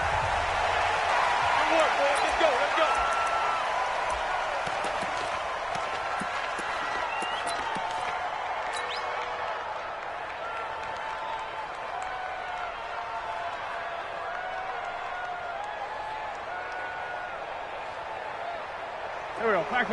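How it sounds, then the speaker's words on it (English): Noisy stadium crowd in a PlayStation 4 American football game at kickoff, a steady loud roar of cheering and applause that runs throughout, with a commentator talking over it. "And in front of a raucous crowd"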